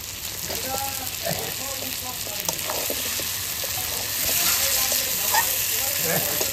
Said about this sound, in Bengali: আমার মাংস কষানো হয়ে গেছে, এবার আমি আলুটা দিয়ে দেবো।